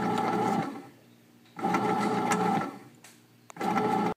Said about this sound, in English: Okay, so it's in the bread machine and it's just getting ready to bake it.